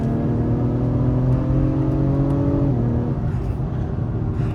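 An Acura TLX Type-S engine pulls steadily on throttle, heard from inside the car as a loud, continuous rising drone with a pitch drop partway through, like a gear change.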